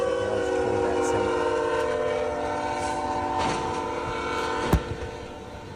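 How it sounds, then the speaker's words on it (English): A train barrels down the tracks toward a semi truck at a Texas crossing, its horn blaring in long sustained blasts over the rolling rumble of rail cars, ending with a sharp bang of impact. "the train blaring its horn as it barrels toward that semi"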